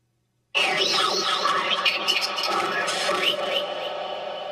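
A breathy, crackling stream of static with wavering whisper-like tones from the Necrometer spirit box app's whisper mode starts abruptly and runs steadily to the end, fairly loud and without pauses.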